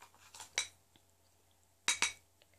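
A spoon clinks against a bowl while homemade lavender dry shampoo is stirred: a few sharp, close metallic taps in two short bursts, with quiet pauses between.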